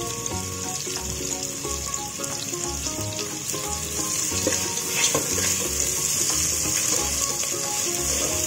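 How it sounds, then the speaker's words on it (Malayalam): Pieces of chicken for a masala fry crackle and sizzle steadily in hot oil in a pan, a dense, continuous frying hiss with occasional scrapes of stirring, fairly close and without voices. "ഇനി ഗോൾഡൻ കളർ ആവുന്ന വരെ നമുക്ക് നന്നായി ഫ്രൈ ചെയ്ത് കൊടുക്കാം."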